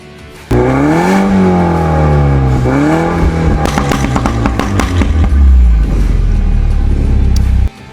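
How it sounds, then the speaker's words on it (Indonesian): A Mini Cooper S fitted with a Remus exhaust revs up and down from idle in two rising-and-falling sweeps, followed by sharper throttle blips and crackles, very loud and close with no talking. "nanti kita kasih dengar suara knalpotnya guys"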